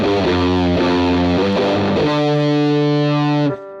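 An electric guitar played through fuzz and reverb plays a run of distorted notes, then rings out on a sustained chord for about a second and a half before cutting off abruptly. Loud, close and alone, with no voices.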